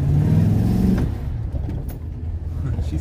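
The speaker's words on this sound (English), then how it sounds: "I'm gonna move this truck out of the way" A truck engine revs briefly and pulls away, a close low drone that fades and settles into a softer rumble, with faint background noise and no clear talk.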